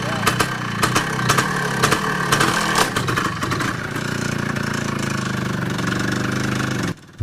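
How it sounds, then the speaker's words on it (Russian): A motorcycle engine runs steadily and loudly nearby on a rural road to a remote village, with a droning rumble and knocking pulses throughout, and a voice over it in the first seconds. "До Бакеева мы с Исламом добирались на мотоцикле."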